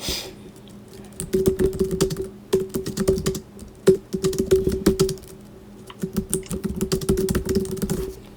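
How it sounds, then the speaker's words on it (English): Rapid typing on a computer keyboard, dense bursts of clicking keystrokes with short pauses between runs, close and fairly loud. "Typing away."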